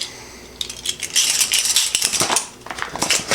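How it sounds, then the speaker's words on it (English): Sugar spooned into a bowl, measured out by the teaspoon, giving close, bright clinking and scraping of a metal spoon against the dish in a busy cluster of rattles with no talk. "I'm going to add the sugar now"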